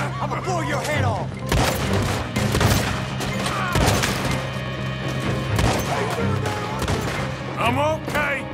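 Repeated shotgun blasts in a Red Dead Redemption 2 gunfight, loud sharp booms fired at irregular intervals amid crashing impacts and other gunfire, with a voice talking over the action.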